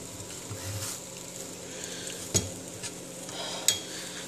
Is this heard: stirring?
yes